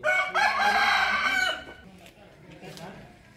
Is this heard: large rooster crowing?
yes